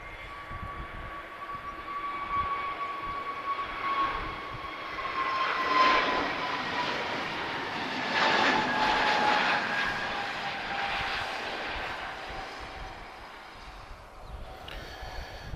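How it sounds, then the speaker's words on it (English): A TAP Airbus A321neo jet airliner takes off from Lisbon Airport bound for Porto, its engine roar swelling and fading in the middle distance with a steady whine over the broad rumble, no voices. "this is an A321neo. She should appear just to our right in just a moment."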